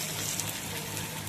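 Fresh bangda (Indian mackerel) fries on a hot griddle, giving a steady, close, broadband sizzling hiss with no talk over it.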